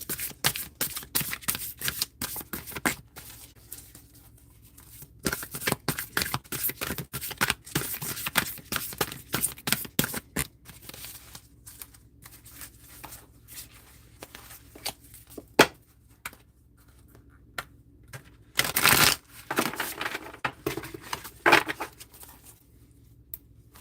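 A deck of tarot cards being shuffled by hand during a live card-reading stream, with repeated bursts of riffling and sliding cards in quick rhythmic runs, close and fairly loud, broken by short pauses.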